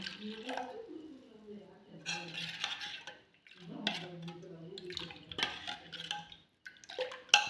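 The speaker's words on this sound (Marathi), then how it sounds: "आणि थोडंसं पाणी पण टाकून घेते" A quiet voice talks while utensils clink against a pot of pani puri water, with a few sharp metallic taps and a soft splash of water being added after pani puri masala.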